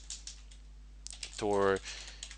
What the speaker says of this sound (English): So type in DNF Tor